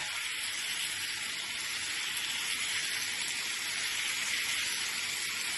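Rice tipped into a hot pan of oil and vegetables for fried rice sizzles in a steady, even hiss that continues unbroken at moderate level, with no talking over it.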